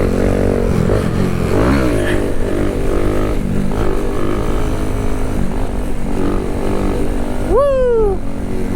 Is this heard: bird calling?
no